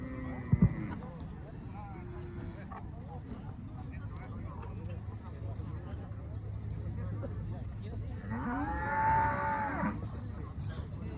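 Cattle low at an open-air livestock market in San Sebastián Tecomaxtlahuaca in the Mixteca region: a short moo at the start and a longer, drawn-out moo later, over a constant murmur of crowd and animals.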